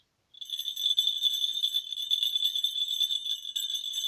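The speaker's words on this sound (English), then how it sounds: "check out my bells, man." Bells are shaken continuously in a Christmas setting, giving a bright, steady jingling that starts suddenly and carries on at even loudness, with no voices.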